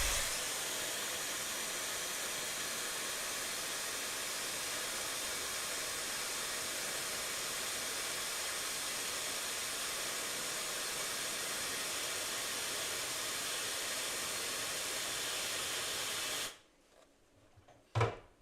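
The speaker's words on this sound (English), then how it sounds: "One of the best hobby tools, a hairdryer." A hairdryer used to dry miniature paint runs as a steady, close, breathy hiss for about sixteen seconds, then cuts off, leaving near silence and a soft knock.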